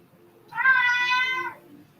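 A cat in an art studio lets out a single drawn-out meow of about one second, clear and fairly close, with quiet room tone before and after.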